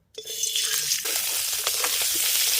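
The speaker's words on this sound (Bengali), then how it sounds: "মাছগুলোকে ভাজতে বসিয়ে দিয়েছি" Koi fish dropped into hot mustard oil in a wok, bursting into a loud, steady sizzle that starts abruptly and keeps crackling close by, with no one talking.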